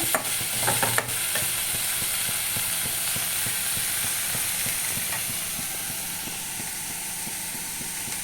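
Green chillies fry in a pan for chutney, giving a continuous steamy hiss and sizzle. A few stirring knocks come near the start, then the frying carries on steadily and fairly close.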